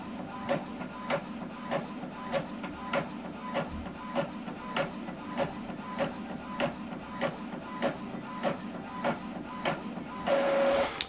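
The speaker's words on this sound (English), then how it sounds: "it's printing out, printing the document automatically, double-sided and colored is what is printing it out" An Epson printer runs a double-sided colour print job, its print head shuttling in a steady series of regular clicks and whirs at close range, ending in a louder feed or motor rush.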